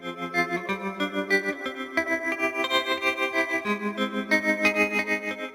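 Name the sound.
tremolo arpeggio from the Ruby pedal with heavy reverb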